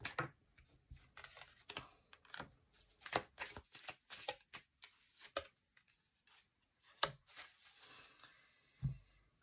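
Tarot cards being shuffled and drawn, a series of soft close riffles, taps and slides in irregular bursts with short pauses between.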